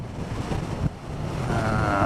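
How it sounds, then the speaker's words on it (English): Gusty wind buffets a rider on a motorbike climbing an exposed, unsheltered hill, a steady rushing roar that swells louder toward the end. "There's not much shelter up here now, and it's pretty gusty"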